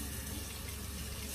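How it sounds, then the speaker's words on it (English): Water runs steadily from a tap as a hand is washed, a continuous soft hiss of flow filling the short moment without any voices. "And then I'm going to wash my hand."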